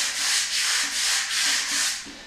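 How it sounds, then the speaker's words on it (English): Hand sanding a mirror with 120-grit sandpaper: a steady, loud, rhythmic scratchy rubbing in repeated back-and-forth strokes, roughly five passes, close up with no voices. "I'm gonna freehand this with the 120"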